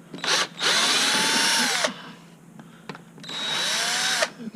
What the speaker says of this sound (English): Next we'll remove these two screws from the bottom here.